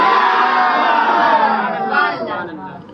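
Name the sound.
crowd shouting slogan responses at religious gathering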